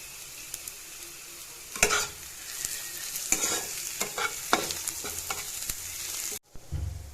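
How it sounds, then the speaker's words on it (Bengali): Garlic and onions fry in a wok with a steady close sizzle, broken by repeated scraping clinks as a spoon stirs them, and a short louder knock near the end. "রসুন আর পেঁয়াজ দুটোই আমার মোটামুটি ভাজা হয়ে গেছে"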